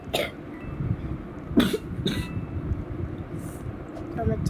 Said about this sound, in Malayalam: ചുമച്ചതാ ഗൈസ്.